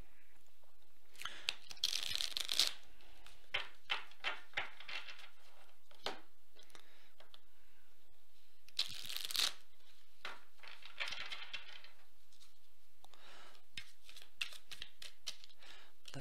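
Tarot cards are handled and shuffled in bursts, with crisp riffling flurries and scattered light slaps and taps of the deck, close and fairly quiet, separated by short pauses and without any talk.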